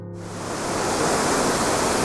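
A waterfall in North Wales roars as a steady, broad wash of rushing water that swells in after a brief quieter start and stays loud and continuous.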